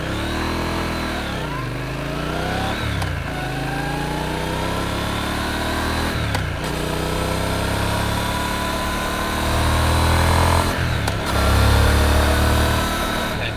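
A 2025 Triumph Speed Twin 1200 motorcycle engine pulling hard under riding, its note rising and falling through several gear changes, steady and fairly close with wind noise.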